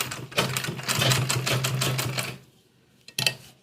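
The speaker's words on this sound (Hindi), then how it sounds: "यहाँ से फ्रेंड्स हम इस तरह से इस कॉर्नर पे और सिलाई बनाएंगे।" A sewing machine stitches the corner of a fabric vegetable organiser bag in a fast, rhythmic burst of close needle clatter lasting about two seconds, then stops before a second short burst.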